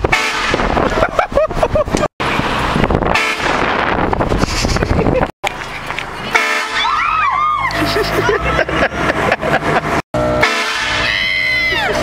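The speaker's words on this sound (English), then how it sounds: "This horn after. Train horn, train horn." A train horn fitted to a Dodge Omni car blasts in loud, wavering honks, repeated several times outdoors amid wind noise and brief dropouts, with people shouting and talking around it.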